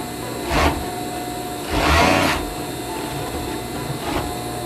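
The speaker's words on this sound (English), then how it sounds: "Sew from the waist to the crotch." A sewing machine stitching the seam of pajama pants from waist to crotch gives a steady mechanical hum with three louder whirring bursts as the fabric feeds through, close up and with no talking.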